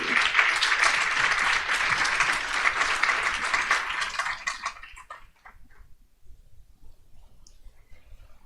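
An assembly audience at a scout congress bursts into loud, dense applause for about five seconds, then the clapping thins out and fades into quiet room noise.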